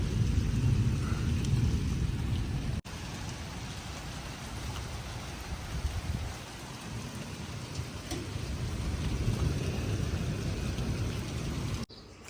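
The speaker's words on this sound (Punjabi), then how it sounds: "ਮੀਂਹ ਪਈ ਜਾਂਦਾ ਹੈ" Heavy storm rain pours steadily and close for the whole stretch, a dense constant hiss over a deep low rumble that suggests ongoing thunder, with no voices.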